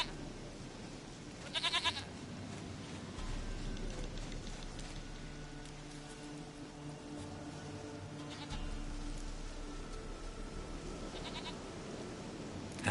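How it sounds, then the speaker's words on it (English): A goat in The Witcher 3: Wild Hunt bleats in short wavering bursts, three separate calls spaced several seconds apart, over a steady patter of rain. "Goat of mine, dearest,"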